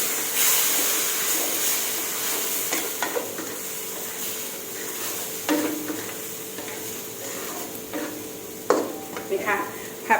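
Pork with red chili curry paste and long beans stir-fried in a pan, a continuous sizzle broken by irregular spatula scrapes and knocks against the pan, close and fairly loud.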